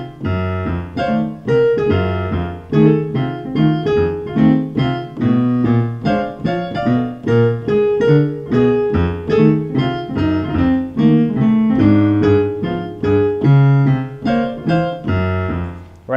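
Stride piano playing a steady left-hand pattern, with bass notes that step in by a half step from above before landing on the root, under a busy harmonic right hand; loud, close and continuous, no talking.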